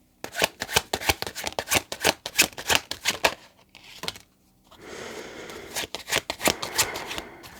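Tarot cards shuffled by hand, with rapid close riffling bursts, a short quiet pause, then more softer shuffling and card handling.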